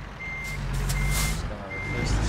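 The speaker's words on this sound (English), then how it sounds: "Reverse this truck in here." A truck in a trucking video game reverses with a steady engine rumble and three evenly spaced beeps from the backup alarm, over a brief hiss of air.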